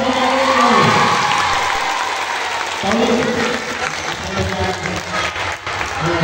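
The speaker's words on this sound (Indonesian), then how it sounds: "Nah, tepuk tangan." Students applauding at a Ramadan boarding school session, a sustained burst of clapping with cheering and overlapping voices mixed in, rising again partway through.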